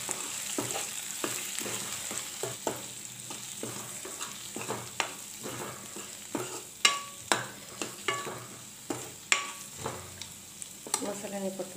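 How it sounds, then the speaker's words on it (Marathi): Onion and homemade masala sautéing in a pan for a sukat recipe, a soft continuous sizzle under repeated clanks and scrapes of a spoon stirring, growing sharper toward the end. "त्याच्यामध्ये आपल्याला कांदा मसाला आणि घरचा मसाला आमचा टाकतो। चांगलं परतून घ्यायचं।"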